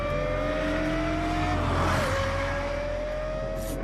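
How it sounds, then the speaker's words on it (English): A Lexus LFA with a high-revving V10 engine screams past at speed, its sharp rising wail peaking and dropping in pitch as it goes by, over a loud steady road roar. "Only a high-revving V10 engine supplies this combination of power and sound"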